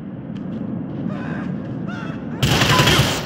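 Gunfire in Grand Theft Auto 4 breaks out as a loud burst of rapid shots near the end, after a stretch of muffled game noise.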